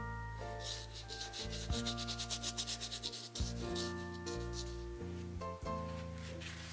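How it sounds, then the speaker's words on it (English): An ink roller is worked back and forth over a mono oil and ink still-life painting, making a close, rhythmic scrubbing rub with quick repeated strokes over a sustained musical backdrop. "I'm going to roll it off so you can see how I'm rolling that."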